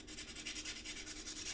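Fine 400-grit sandpaper rubbing on metal being prepped for soldering, a steady soft scratching in quick back-and-forth strokes, close and fairly quiet, with no talk.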